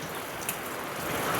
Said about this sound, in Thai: ฝนตกตั้งแต่วันที่ 1จนฮอดปัจจุบันนี่พี่น้อยเนาะ